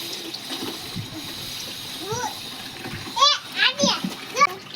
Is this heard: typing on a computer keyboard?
no